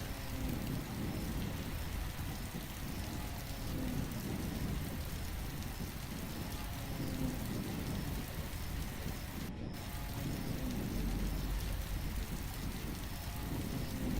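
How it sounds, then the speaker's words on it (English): Heavy rain pours across the Mara Plains savannah with thunder, a dense unbroken hiss of falling water and low rumbling underneath, steady and enveloping throughout. "The rains have returned to the Mara Plains"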